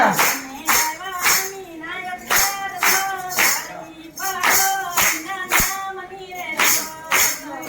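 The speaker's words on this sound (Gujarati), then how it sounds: "મીરાબાઈને હાથ જો તાળી પાડો હરિના નામની રે" Hands clap in a steady rhythm, loud and close, beneath group singing of a Gujarati devotional Mirabai song at a satsang gathering in Bhavnagar.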